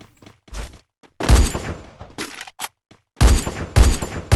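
Bursts of rapid gunfire from the Free Fire video game ring out in short, loud volleys separated by gaps of silence, several rattling sprays in quick succession with no talking over them.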